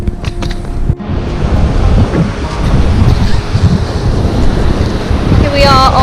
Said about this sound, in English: We are on the beach, South Beach of Bridlington.